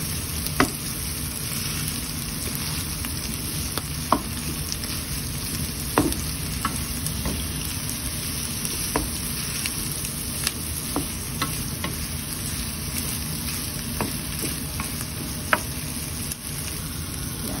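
Corned beef fries in a pan with garlic and onion, giving a steady sizzle while a utensil mashes it, producing sharp scattered taps and scrapes against the pan.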